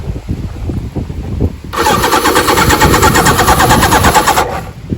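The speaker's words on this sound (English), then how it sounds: "Kenny's got the battery hooked up, and you can listen to it turn over" A Suzuki GS1100G motorcycle engine cranks over on a battery with a rapid, steady mechanical chatter for about three seconds, loud and close, after low rumbling handling noises.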